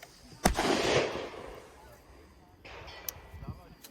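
A sharp, loud crack from a CZ 600 centrefire rifle with a Leica scope, fired outdoors. A second, fainter report follows later, with someone talking quietly in the background.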